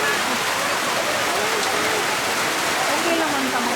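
Steady rain pours down in a dense, even hiss at a funeral gathering, with faint voices talking under it.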